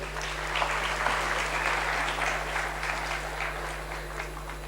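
Steady applause from a seated audience after a speech at an event session, sustained and fairly full throughout with no voices standing out.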